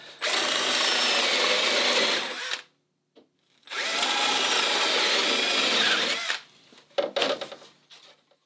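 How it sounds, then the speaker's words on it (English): A power drill bores rough holes into a wooden bulkhead for a small sailboat, two long steady whirring bursts with a short pause between, close and loud, ending in a few brief clicks and knocks. "Just start by drilling a couple of rough holes."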